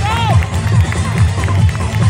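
An audience at a kick boxing team exhibition claps in a steady quick rhythm, loud and close, with crowd murmur and a voice briefly rising over the clapping.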